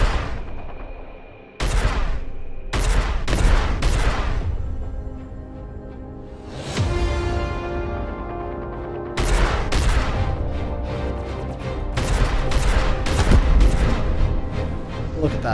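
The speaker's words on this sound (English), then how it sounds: "That was one shot to vaporize that ship." The Starfarer ship in the Star Citizen space game fires heavy weapons in loud, booming blasts that overlap with explosions and echo, building into a dense barrage of impacts.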